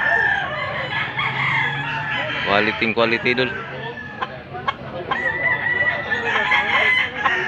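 A large yellow-legged rooster crows nearby in Cebu while someone talks over it, with occasional clucking in the background.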